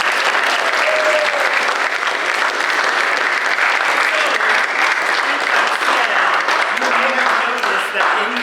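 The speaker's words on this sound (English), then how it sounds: "So round of applause for Silver State University." Sustained, loud audience applause fills the hall at a university choir concert, dense and steady throughout with a few voices and cheers mixed in near the end.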